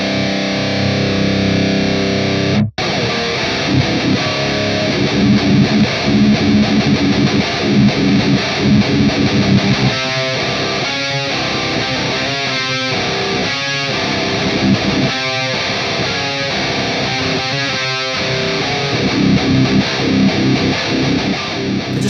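An electric guitar plays through a Laboga Mr Hector amp simulator by Aurora DSP. The tone is heavily distorted and loud, with sustained chords and bursts of tight, chugging palm-muted rhythm, and no voices.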